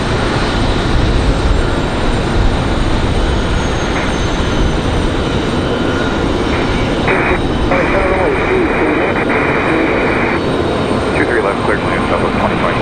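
A Southwest jet airliner arrives at Raleigh-Durham International Airport with a loud, steady engine roar throughout, while faint radio chatter and tones sound beneath it.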